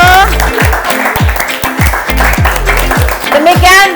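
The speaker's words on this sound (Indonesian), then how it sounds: "Oke, tepuk tangan dulu." A group at a coaching session gives a round of applause, loud close clapping over rhythmic low thumps and scattered voices.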